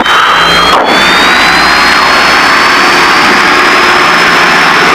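The twin engines of a Piper Seneca aircraft roar loudly and steadily on the runway, with a rising whine layered over the constant drone and a brief dip near the start.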